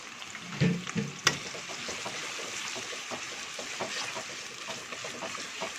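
Onion, ginger and garlic frying in a pan for masoor dal curry, a soft, steady sizzle with a few louder clinks and stirring scrapes near the start.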